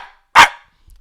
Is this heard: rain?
no